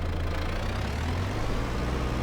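Kubota M6141 tractor idling in Farm Sim 22, a steady low diesel rumble held close and constant, alone without voices.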